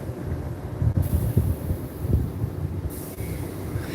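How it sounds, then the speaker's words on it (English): A freight train loaded with tarmac passes Peterborough, its wagons rumbling and clattering steadily at moderate distance, with a faint high squeal from the wheels and no voices. "That is what a train full of tarmac looks like."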